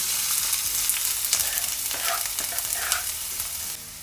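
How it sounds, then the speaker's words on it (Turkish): Thinly sliced onions sizzle and crackle in a hot pan, with occasional stirring scrapes, close up and steady, quieting slightly at the end. "İnce ince doğradığım soğanları hemen tavanın içine."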